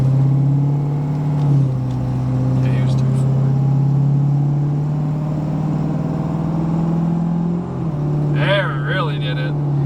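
A 6.7 Powerstroke truck engine drones steadily at cruising speed, its pitch dipping and rising slightly as the RPM flares during a transmission shift, with someone talking inside the cab.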